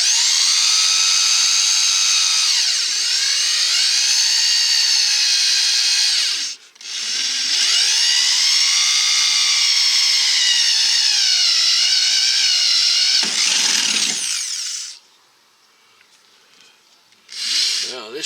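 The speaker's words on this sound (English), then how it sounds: "Just got to drill these big rivets out" A power drill bores out large rivets holding the window regulator inside a Dodge van door: a loud, high whining drill that runs in long sustained passes, pitch sagging under load, with short pauses between bursts.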